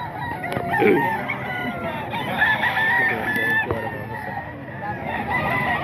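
Roosters crow and chickens cluck among street-comb gamecocks offered for sale, several calls overlapping in a busy, close setting with someone talking over them.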